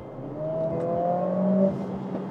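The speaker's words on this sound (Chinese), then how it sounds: "那我想说的就是你听它的排气的声浪哦" A Mercedes-AMG CLA 45 S 4MATIC+ coupé with its 2.0-litre turbo engine in Sport Plus mode gives a steady, droning exhaust note that rises slightly in pitch. It is heard continuously from inside the car, with no talk.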